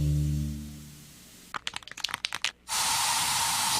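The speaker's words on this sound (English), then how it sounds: "So you just used bug spray in your home." A low hum fades, then a few quick clicks and rattles are followed by a loud, sustained hiss of a bug spray aerosol can spraying close by indoors.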